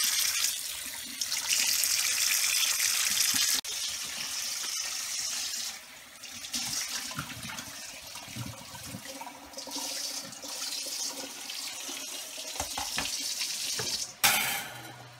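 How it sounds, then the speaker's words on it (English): Kitchen tap running hot water into a sink while a pot fresh off the stove is handled during plantain lasagna cooking, a steady close hiss and splash that shifts in tone, with a brief clatter near the end. "I usually keep the water running because it's super hot."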